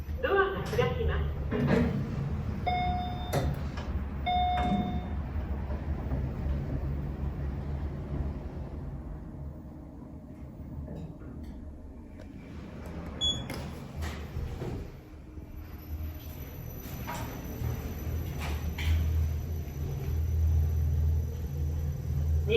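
A faulty Fujitec elevator gives off a steady, abnormal low rumble throughout the ride, joined by brief chime tones and automated voice announcements.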